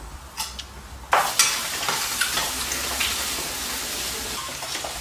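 Red and yellow peppers sizzling in hot oil, with scraping and clattering as they are stirred in the pan, a continuous close frying hiss.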